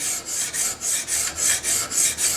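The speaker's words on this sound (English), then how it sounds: "just start scraping back and forth with no side to side movement" A steel scraper is drawn back and forth over a metal gun part to remove angled file marks, about nine even rasping strokes in a steady rhythm, close and alone.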